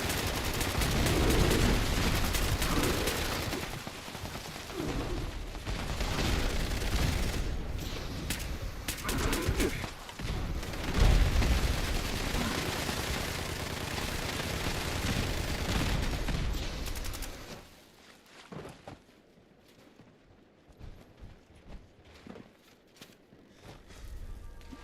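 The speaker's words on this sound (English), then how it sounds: "Yeah, that's the Tesla cannon and nuke-nades." Dense, continuous gunfire and explosions from a Tesla cannon and nuke-nades in the video game Fallout 76, a loud chaotic barrage that thins out into scattered, fainter shots near the end.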